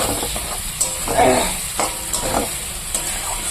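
Spice masala sautés in a pan with a bright, close sizzle, punctuated by a few quick stirring scrapes over a steady hiss.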